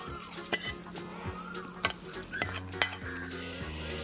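Bean sprouts, sweet peppers and fresh herbs tumble into a Thai khanom jeen noodle salad, soft rustles and thuds with a few sharp clinks of a utensil against a bowl, close and quiet.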